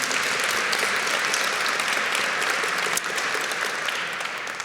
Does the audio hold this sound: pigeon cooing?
no